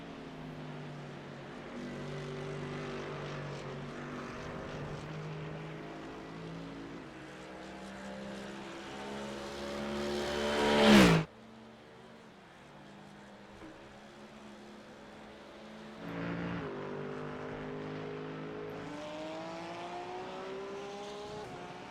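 GT3 race cars at Silverstone, with engines droning near and loud through rising and falling gears. One car whooshes past sharply at about the midpoint, then it goes quieter before another engine note builds again, with no commentary over it.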